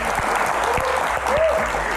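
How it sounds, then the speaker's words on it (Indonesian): A studio audience at an Indonesian talk show claps loudly and continuously for the Health Minister's entrance, a dense even wash of hand claps throughout, with a faint voice rising briefly over it. "Tepuk tangan paling meriah"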